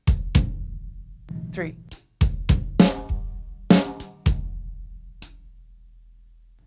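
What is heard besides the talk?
drum ostinato with hi-hat and bass drum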